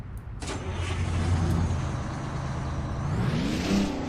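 Kenworth 521 truck engine fitted with 671N injectors in American Truck Simulator, a steady diesel drone that rises in pitch near the end, heard alone at close range.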